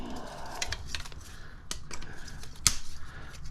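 Scissors or cutters snipping wires on a scrapped fan motor, a few sharp, quiet clicks and snaps scattered over a few seconds, close up with light handling noise.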